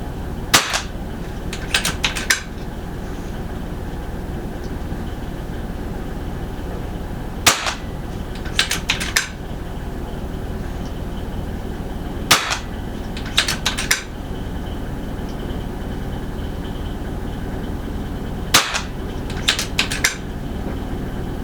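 A Brocock XR Sniper air rifle fires several sharp, near cracks during testing and hunting, each shot followed by quick metallic clicks of cycling, spaced several seconds apart over a low steady background hum.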